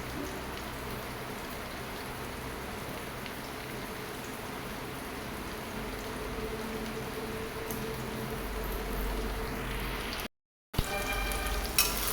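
Onions fry in a pan with a steady crackling sizzle that sounds almost like rain on a surface, close and continuous, with a brief dropout near the end.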